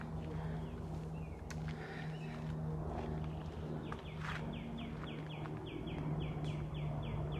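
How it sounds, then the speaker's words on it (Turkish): Birds sing in a forest on a nature walk near Alemdağ and Polonezköy. A faint, distant series of quick repeated chirps rises out of a steady low background rumble. "Ama bu kuş sesleri de e, dikkatimizi çekti."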